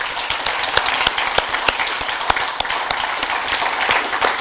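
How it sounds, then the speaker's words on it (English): An audience applauds Greg Combet at an IPAA SA gathering, with dense, steady clapping from many hands sustained throughout, fairly close and with no voices over it. "I would like you all to join me in giving Mr Combet another round of applause"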